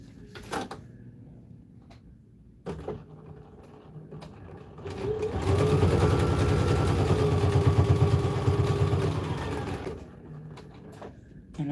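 A sewing machine stitches a fabric bowl cozy in one steady, fast-running burst of about five seconds, framed by quieter handling and fabric rustles before and after, with no talk.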